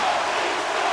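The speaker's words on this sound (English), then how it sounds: "You can feel the energy in this crowd." Hockey arena crowd in NHL 26 gives off a steady, loud roar, a continuous wall of cheering with no breaks over a brief moment.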